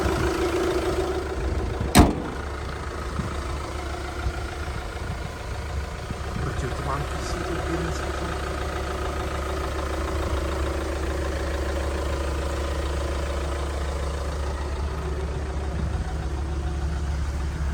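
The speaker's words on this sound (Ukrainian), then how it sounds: "Мотор працює чітко" A 2014 Fiat Freemont AWD with a diesel engine and automatic gearbox idles smoothly and evenly, a close, low, steady hum. A single sharp click sounds early on, and a voice talks over it.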